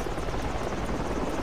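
Helicopter flying in the military shooter game Project Reality, a steady loud rotor thrum and engine buzz holding even throughout without a break.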